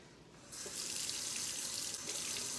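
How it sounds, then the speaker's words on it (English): Tap water runs from a faucet into a plastic tank of an Enagic K8 water ionizer during cleaning, a steady close hiss of pouring water that grows louder after a quiet start and continues alone. "we're gonna fill this not with Kangen water, but with water from your tap, from your regular tap water"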